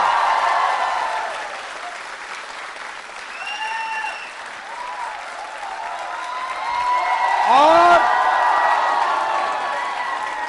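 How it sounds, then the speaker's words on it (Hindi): University quiz show audience at a Valentine's Day event clapping and cheering, sustained applause throughout with an announcer's voice talking over it and occasional whoops. "तालियां जोरों से बजाइए अपने लिए"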